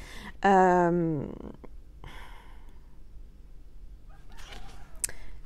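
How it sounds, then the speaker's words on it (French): A rooster crows once, loud and close, in a rising then falling call that lasts about a second. Faint scattered noises follow over a quiet background. "Il y a le coq qui chante, hein."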